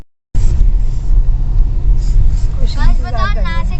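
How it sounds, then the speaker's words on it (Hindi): A car rolls along a bumpy road in a steady low rumble with jolts from the uneven surface, loud and close throughout, while people talk toward the end. "देखो कैसे झटके डांस करती जा रही है गाड़ी"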